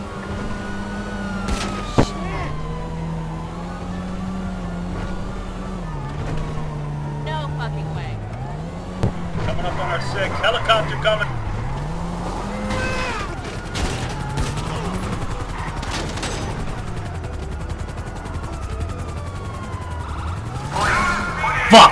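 A car in a driving video game drifts with its engine wailing and swooping up and down in pitch, punctuated by sharp bangs and impacts, while someone talks over it.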